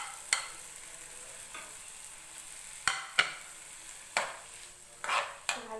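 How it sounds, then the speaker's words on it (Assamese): Potatoes fry in a pan with turmeric, red chili powder and a little salt for a potato omelette. A faint sizzle runs under scattered sharp scrapes and clinks of stirring. "ভালকৈ ভাজি লৈছো"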